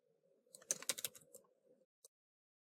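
Quick, light keystrokes on a computer keyboard, a brief cluster of clicks followed by a pause and one final tap, close and fairly quiet with no talking.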